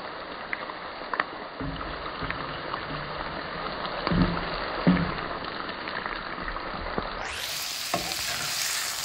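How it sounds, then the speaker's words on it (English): Mushrooms added to browning garlic sizzle in a frying pan, a close, steady crackling fry with occasional stirring clatter, growing brighter and louder toward the end. "as my garlic starts to get browner, I'm gonna add in my mushrooms."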